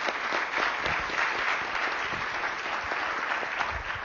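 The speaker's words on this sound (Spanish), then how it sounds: "Un aplauso también para Luciana." Audience at a talk event applauding for Luciana, steady dense clapping throughout without a break.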